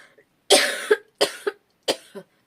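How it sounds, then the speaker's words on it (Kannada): A woman coughs three times in a short indoor burst, each harsh cough followed by a smaller catch, with brief silences between and no talk. "ಸ್ವಲ್ಪ ಮಧ್ಯ ಮಧ್ಯ ಕೆಮ್ತಾ ಇರ್ತೀನಿ"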